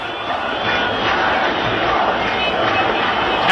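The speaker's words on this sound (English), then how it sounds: "the massive crowd in Tahrir Square is on the march as I speak" A massive crowd of protesters marching in Tahrir Square, Cairo, makes a dense, continuous roar of massed voices, loud and steady throughout, with no single voice standing out.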